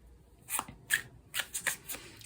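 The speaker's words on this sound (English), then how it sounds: "just as I'm shuffling" Tarot and oracle cards shuffled by hand during a card reading, with several soft, quick riffling bursts in an irregular rhythm, close and quiet, with no talking.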